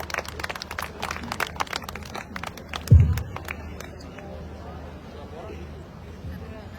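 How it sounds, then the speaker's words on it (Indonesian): Audience applause at an Indonesian awards event in Parapat by Lake Toba, North Sumatra, a steady wash of many hands clapping with crowd murmur throughout, briefly swelling around the middle before settling back. "Kita berikan tepuk tangan Bapak dan Ibu."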